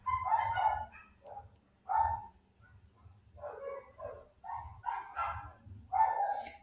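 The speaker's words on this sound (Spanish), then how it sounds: "perdón por los perritos, se reescucha" Several dogs bark and yip in bursts, a string of close, moderately loud woofs with short gaps and some higher whining yelps, with no one talking over them.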